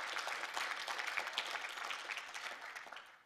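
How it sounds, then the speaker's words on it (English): A crowd applauding steadily, dense overlapping claps at moderate distance with no voices, tapering slightly toward the end. "let's give them a round of applause"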